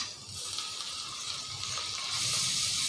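Chopped tomato drops into softened onions frying for chicken biryani, bringing a continuous close frying hiss that rises a little toward the end, with no voices.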